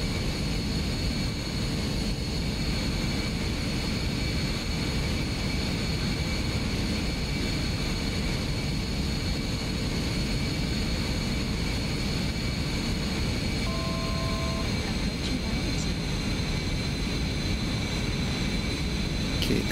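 Airliner engines in a steady climb toward 10,000 feet in a VR flight simulator, a constant, even drone with a faint tone briefly appearing, unchanging and continuous throughout.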